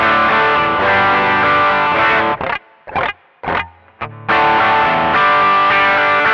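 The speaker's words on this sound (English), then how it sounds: "it's very much a pedal sound as opposed to an amp sound" An electric guitar plays through a Koch 63 OD overdrive pedal, going direct with no amp, gritty sustained chords broken by short choppy stabs and brief silences before ringing out again.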